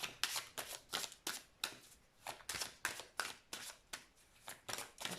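Tarot cards are shuffled by hand in a quick, regular series of papery riffling bursts, about three per second, close and soft with no talking.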